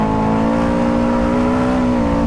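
Caterham sports car engine held in third gear on a track at Anglesey, a loud steady drone with strong harmonic tones running continuously and close up throughout.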